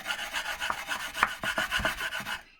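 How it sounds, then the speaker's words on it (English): A pill rolling device held by suction cups is pushed back and forth, making a run of rhythmic rasping, rubbing strokes that are close and moderately loud, ending abruptly. "the next part, hopefully these suction cups will hold, is rolling it back and forth."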